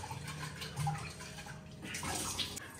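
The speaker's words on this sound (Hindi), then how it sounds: "भर दो पानी," A beer bottle being filled with water in a home kitchen, with a steady rushing, gurgling flow heard close up and no talking.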